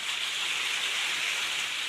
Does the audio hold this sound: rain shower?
yes